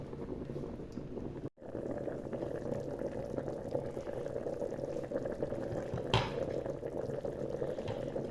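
Pot of bean soup with mushrooms boiling steadily, a continuous close bubbling simmer that runs the whole time, with one brief drop-out and a small clink partway through.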